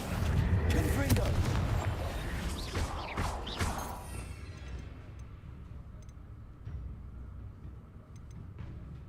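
Confringo fire curse cast in the Hogwarts Legacy game: a loud, dense blast of booming, crackling impacts for about four seconds, then fading to a quieter rumble with faint ticks, while a voice speaks over the start.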